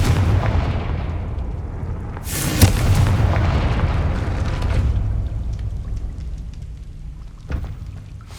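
A Confringo fire spell cast in the game Hogwarts Legacy bursts against a gate with a sharp, booming blast, trailed by rumbling debris and a second smaller thud near the end.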